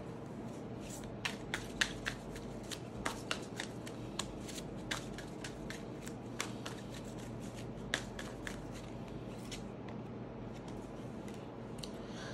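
Tarot cards are shuffled and drawn by hand close up, a steady papery riffle with scattered light taps and flicks, quiet and without speech.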